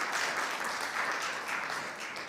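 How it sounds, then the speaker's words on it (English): An audience at the Global Digital Health Forum 2025 applauds as a speaker from Kenya's Digital Health Authority comes to the stage, a steady, dense round of clapping that holds for a couple of seconds. "Let's give her a clap as she comes up"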